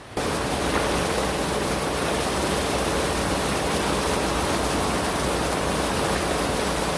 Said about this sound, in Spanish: Seguimos encontrándonos espectaculares bajadas de agua.